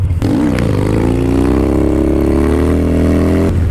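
A Harley-Davidson Dyna Low Rider S motorcycle revs hard during a wheelie, its engine rising in pitch and holding a loud, steady, close roar throughout.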